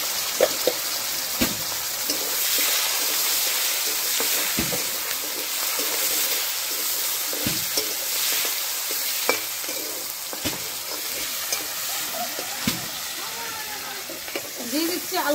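Chopped onion, garlic and tomato sizzle steadily in a pan, a close, continuous frying hiss with repeated sharp clicks and scrapes of stirring throughout.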